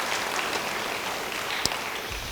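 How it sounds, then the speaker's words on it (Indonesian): A church congregation applauds during a sermon, a steady, fairly loud roar of clapping throughout with one sharp knock standing out near the end. "Yang percaya, beri tepuk tangan bagi dia."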